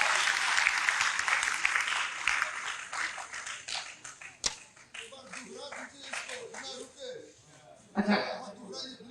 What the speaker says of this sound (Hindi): खुल के तालियां होनी चाहिए